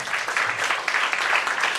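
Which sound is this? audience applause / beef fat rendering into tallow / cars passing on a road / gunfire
audience applause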